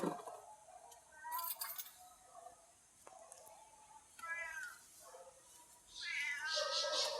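A cat meows several times at night outdoors, faint and somewhat distant, with quieter rustles and clinks between the calls and a louder meow near the end.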